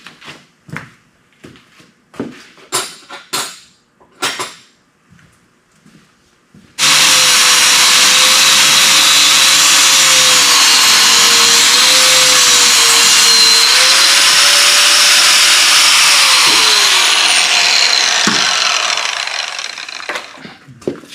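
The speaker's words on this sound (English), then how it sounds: "I'm going to get the steering shaft cut" A loud, continuous high-pitched power tool grinding and cutting through a car's metal steering shaft for about fourteen seconds, after some brief knocks and clatter.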